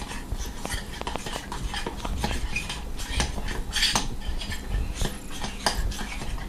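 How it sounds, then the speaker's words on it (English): Utensil stirring Parmesan cheese and mayonnaise together in a bowl, continuous close scraping and clinking of metal against the dish with a steady, busy rhythm. "you need to stir the Parmesan cheese and mayo together."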